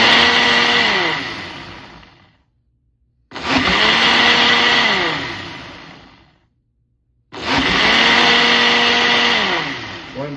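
A countertop blender runs a smoothie program in three loud pulses of roughly two to three seconds each, its motor pitch sweeping and whirring with short silent gaps between bursts.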